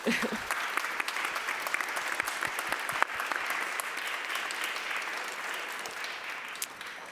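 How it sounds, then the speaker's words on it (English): Audience applause at a premiere talk for a choreographed Kafka production, moderately quiet and steady, individual claps sounding crisply throughout and tapering slightly toward the end. "I think we should give them some applause, please."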